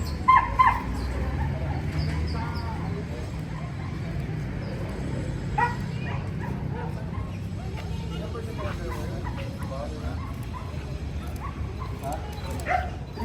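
A dog gives short barks, yips and soft whimpers, scattered and fairly close, while several people talk casually over it.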